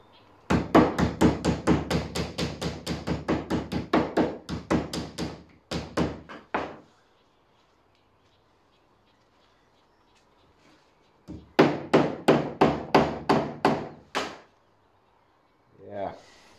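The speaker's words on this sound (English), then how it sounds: "Let's just take a hammer" Rapid runs of sharp metallic hammer blows flattening a piece of metal for a window installation, close and loud, in two bursts separated by a quiet pause, with a few single strikes trailing off.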